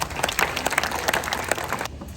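An audience at a school breakup celebration claps to welcome a teacher, a dense, lively burst of many hands close by that stops abruptly.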